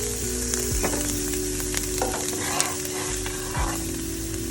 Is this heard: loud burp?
no